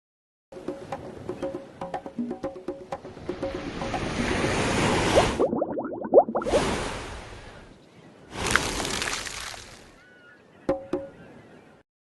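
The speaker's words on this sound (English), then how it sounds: "A wave is when the top of the water moves." Ocean waves rush and swoosh in a rising, surging wash, broken into a few bursts that cut off abruptly, with some splashing and faint musical tones underneath.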